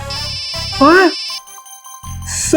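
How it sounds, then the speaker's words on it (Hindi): An incoming call on a mobile phone rings with a bright, looping electronic tone, interrupted by a short spoken word and other sounds before the ringing resumes. "अरे यार, मेरी वाइफ को भी अभी फोन करना था।"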